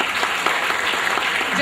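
Audience applause at an Indonesian Christmas celebration in 2007: a dense, steady wash of many hands clapping together, loud and unbroken throughout, with no voices over it.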